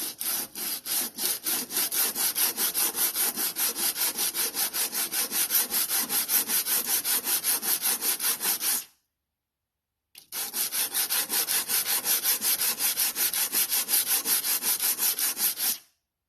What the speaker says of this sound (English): Big brake pad, put it on the sandpaper.